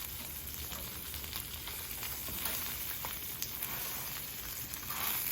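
Country fried steak sizzling in grease on a flat top grill, a steady bright crackling hiss with small popping spatters, continuous and fairly close.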